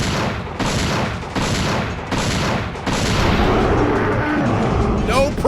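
Repeated gunfire blasts a dinosaur in the Dino Crisis 2 video game (2002 PC release), a dense run of loud shots and booms with short gaps between bursts, with a voice talking over the action.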